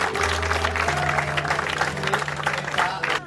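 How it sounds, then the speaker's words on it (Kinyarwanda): A church congregation claps together in a dense, steady round of applause, loud and close, with a low hum of the room underneath and no clear talking. "nimunyemere kunywa amashyi menshi yo gushimira itorero"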